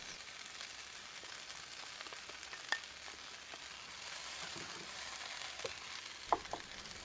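Vegetables sauté in a pan, giving a steady soft sizzle with faint crackles, and a couple of sharper clinks or scrapes stand out near the end.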